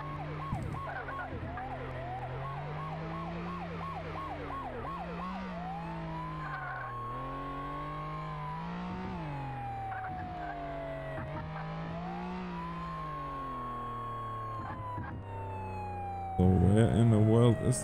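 A police-style siren wails and yelps continuously as an emergency vehicle drives in the Flashing Lights game, with engine drone underneath, a sudden burst of harsher noise near the end, and a voice talking briefly.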